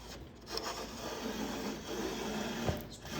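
Hand beveling tool shaving the inside edge of a cedar strip for a kayak, a quiet continuous scraping rasp with a brief sharper scrape near the end.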